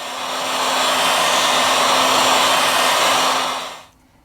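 A heat gun blows a loud, steady roar of hot air over a Xiaomi Mi 8 phone screen before replacement, running for nearly four seconds and then cutting off abruptly.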